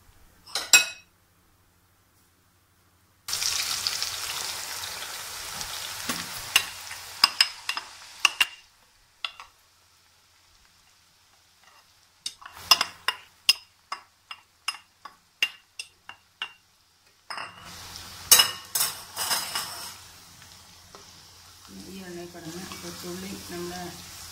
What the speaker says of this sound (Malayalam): ഇനി നമുക്ക് ഈ വെളിച്ചെണ്ണയിലേക്ക് തന്നെ കൊച്ചുള്ളി ഈ വെളിച്ചെണ്ണ തന്നെ ഇട്ട് നമുക്ക് ആവശ്യത്തിന് അത് വറുത്ത് എടുക്കാം